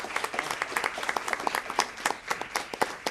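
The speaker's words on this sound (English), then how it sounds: "Y'all give them one more big round of applause." A school board meeting audience gives a round of applause, close and lively with many distinct hand claps in a quick uneven patter, moderately loud throughout.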